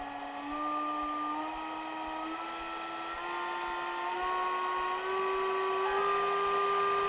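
A CNC spindle motor under RS485 control whines steadily and loudly, its pitch climbing in distinct steps from 10,000 RPM up toward maximum speed, with no talking.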